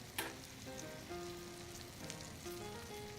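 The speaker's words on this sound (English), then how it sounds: "And as they're searing, that flour browns, and that's going to add a lot of flavor to the gravy." Flour-dredged pork chops sear in a cast iron pan with a steady, close sizzle and occasional sharper pops and crackles, no voices over it.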